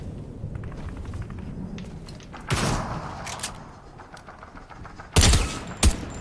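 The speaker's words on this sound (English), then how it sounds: "That light machine gun's pretty sweet." A light machine gun firing in Fortnite: a few loud bursts ring out over ongoing game ambience and scattered clicks, with the last two bursts close together near the end.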